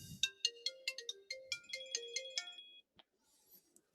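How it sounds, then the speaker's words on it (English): A mobile phone ringtone plays a bright, quick electronic melody of plucky repeated notes for under three seconds, fairly quiet and close, then cuts off, leaving faint room noise during a pool match. "Apparently Rick's got a phone call."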